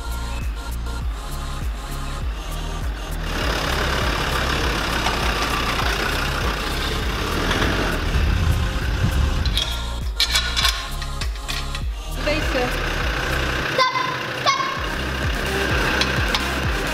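A Land Rover's engine runs loud and close, rumbling steadily and rising as it moves, with mechanical clanks and a brief beep near the end.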